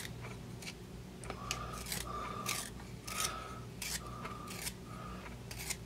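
A pencil sharpener grinds a cedarwood copying pencil in a few short rasping bursts, each with a faint whirring tone, over a steady low background hum.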